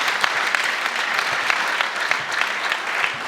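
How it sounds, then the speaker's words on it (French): Crowd at a political commemoration gathering applauding, brisk and dense clapping from many people, moderately loud and continuous through the short stretch. "Applaudissez."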